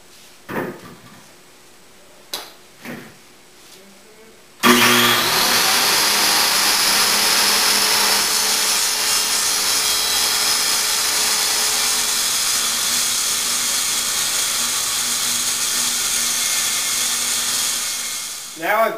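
A saw rips through a plywood sheet guided along a clamp-on straightedge. After a few light knocks, a loud, steady whining cut runs about fourteen seconds before spinning down.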